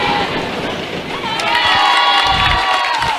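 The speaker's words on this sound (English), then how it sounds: "We've had exciting action as the crowd is getting wild." A high school boys basketball crowd, Sultan vs. Eastside Prep, cheers and shouts loudly in a gym, a steady roaring wall of excited voices with higher youthful yells throughout.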